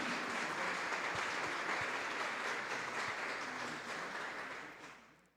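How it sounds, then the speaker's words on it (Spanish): Audience applause for catechists at a national congress, broad and sustained, filling the hall, then fading out toward the end. "Un aplauso para todos nuestros catequistas de la nación mexicana,"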